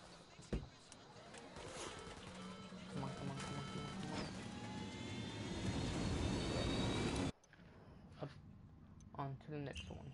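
Helicopter in the video game Ghost Recon Wildlands, a steady loud rotor and engine roar under overlapping talk, cutting off abruptly near the end before quieter sounds with more speech.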